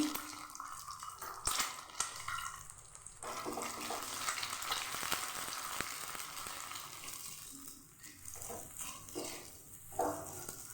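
Eggs fry in a hot pan in a home kitchen, a continuous crackling sizzle at moderate level with bursts of spattering and a few sharper clatters, no voices.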